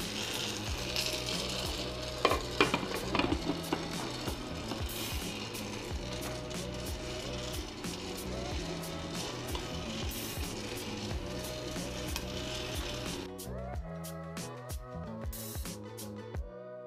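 Coffee beans cracking during first crack inside a 750g home drum roaster, scattered snaps and pops over a steady mechanical churning hum, fairly quiet, ending with sparser clicks and silence.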